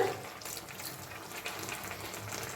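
Water is poured into a pan of cabbage curry with fish head and potato, a soft, faint continuous splashing trickle heard close up with no voices.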